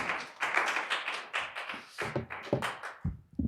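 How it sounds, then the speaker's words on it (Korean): A church congregation claps in welcome as a pastor comes forward at an anniversary thanksgiving service; the clapping is dense and close at first, then thins into scattered claps toward the end. "우리 목사님 나올 때 박수로 환영합니다."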